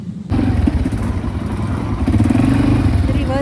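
An ATV engine runs steadily and loud, with a rough mid-pitched motor drone and some mechanical clatter after it starts up, during a ride in Bali while being put into reverse.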